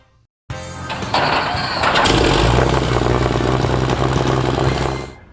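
A custom tank car powered by an M47 Patton tank engine cranks over and fires up after a brief silence, building into a loud, rough, rumbling idle heard close by before cutting off near the end.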